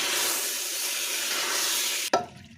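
Kohlrabi and mutton with spices stirred and frying in a pan give a steady loud sizzle with scraping, then a sharp clatter near the end and a fading hiss.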